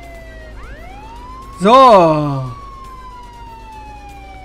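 A police car siren in the video game Contraband Police wails in sweeping tones, swelling louder for about a second before fading behind a steady background hum, with a brief spoken word.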